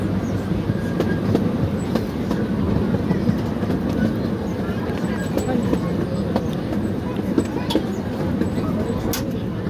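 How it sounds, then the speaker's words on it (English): A miniature replica of an 1863 C.P. Huntington steam engine pulls a scenic railway ride train, giving a steady rumble and rattle of rolling cars with faint clicks throughout, close and continuous under faint talk. "The train you're riding on is being pulled by a miniature replica of an 1863 C.P. Huntington steam engine."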